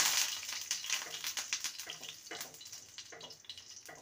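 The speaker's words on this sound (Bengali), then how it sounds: "ফোড়নটাকে কয়েক সেকেন্ড ভেজে নেব।" Whole cumin seeds, cardamom and cinnamon sizzle in hot oil in a pan, a crackling, popping fry close by that slowly fades over a few seconds with no talking.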